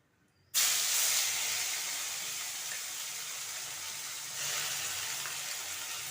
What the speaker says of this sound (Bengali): 30 সেকেন্ড মতো নেড়েচেড়ে নিয়ে এবার দিয়ে দেবো পেঁয়াজ বাটা।